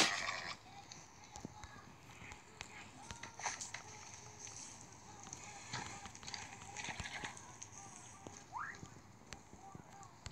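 An unsaddled horse shuffles and moves about nearby, with light hoof clops and faint rustling spread through the clip at low volume, no clear voice over it.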